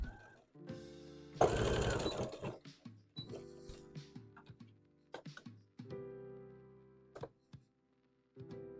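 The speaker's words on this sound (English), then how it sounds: "Alright, so now I'm just sewing up these little... I call them tentacles." A sewing machine stitches fabric pieces for a Toothless dragon hat in short bursts and stops, one loud whirring run standing out, interspersed with clicks and thumps.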